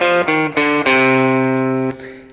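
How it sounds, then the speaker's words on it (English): Harmonic minor scale picked note by note on a distorted electric guitar, a few quick ascending notes ringing out clearly and loudly with a final long sustained tone that fades. "So this is what the harmonic minor scale sounds like."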